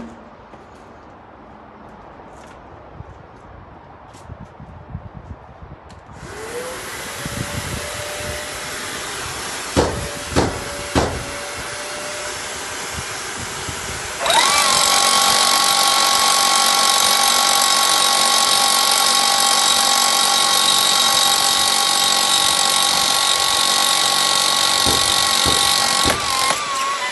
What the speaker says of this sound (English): I'm going to turn on the vacuum, put the rest of my PPE on and then drill